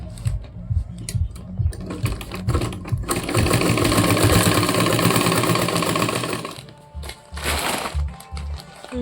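A hand-cranked sewing machine stitches a bag made from a rice sack, its rapid mechanical clatter running steadily for several seconds and then stopping, with softer handling noises before and after.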